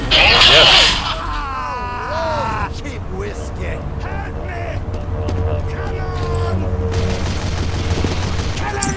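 Gunfire in the video game Team Fortress 2 comes as loud, dense bursts of shots and booms up close, layered over steady game ambience.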